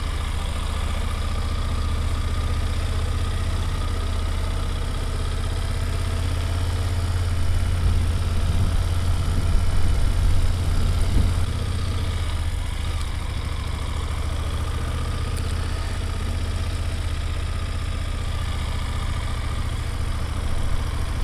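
A BMW F850GS motorcycle engine runs low and steady while climbing slowly up a steep mountain road, with the engine running hot; a continuous close drone with a slight rise in the middle, no talk.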